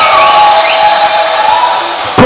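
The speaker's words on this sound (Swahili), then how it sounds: "Hebu tumshangilie Bwana kwa makofi." Church congregation at a lively worship service cheering and shouting loudly together, a dense continuous crowd roar with a burst of clapping noise at the very end.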